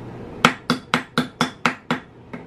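Seven evenly spaced hammer strikes ring out one after another, a child banging a toy hammer at home, the last blow softer.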